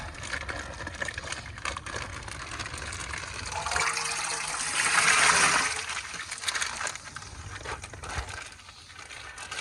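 Water pours and gushes into a plastic bag while fish fry are being released. The rushing swells in the middle and eases off toward the end, heard alone and close by.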